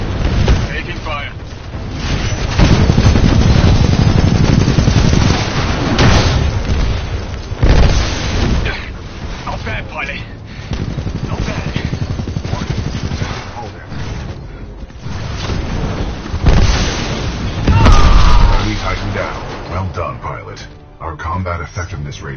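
Heavy booms and explosions from the Titanfall 2 video game roll through a dense, loud battle mix. Blasts and bursts of gunfire recur throughout, and in-game voices talk over the combat.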